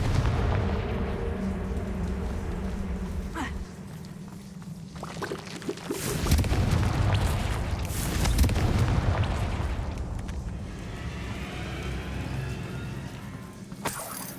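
Confringo, an explosive fire spell in the video game Hogwarts Legacy, goes off as a loud booming blast that swells into a rolling roar and rumble lasting several seconds over a steady low game ambience.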